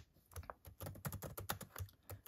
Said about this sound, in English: y'all are going to see how terrible I am with typing also